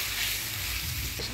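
Spiced masala for a Bengali potato, cauliflower and pea curry sizzles steadily in a pan with a little water, a continuous close hiss with faint stirring.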